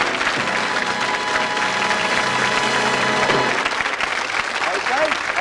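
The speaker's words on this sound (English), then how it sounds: "Give them a round of applause, folks" Studio audience applause at a 1985 television game show, a dense steady wash of clapping held at even loudness, with a voice speaking over it for most of its length.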